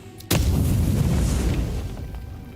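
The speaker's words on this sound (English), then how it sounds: "Bomb." A bomb goes off in the fantasy game Avowed, one sudden loud blast followed by a long rumbling tail that slowly fades.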